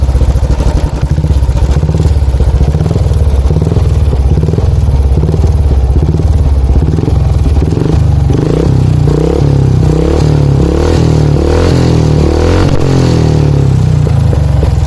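A custom motorcycle built on a Thunderbird engine idles loud and close while still cold, its exhaust thumping in a steady rhythmic pulse with some mechanical clatter throughout.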